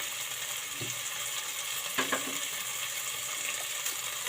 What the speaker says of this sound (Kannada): ಸ್ವಲ್ಪ ಕರಿಬೇವು, ಒಂದು ಟೊಮೊಟೊ ಹಾಕ್ತಾಯಿದ್ದೀನಿ. ಇಷ್ಟು ಫ್ರೈ ಆದರೆ ಸಾಕು.